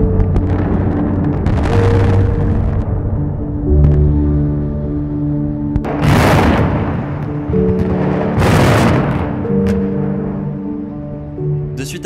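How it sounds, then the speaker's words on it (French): A building demolition set off with explosives: a rumbling blast, then several loud booming bursts spread over seconds, each with a long rumbling tail over a low hum, with no talking. "De suite après l'explosion"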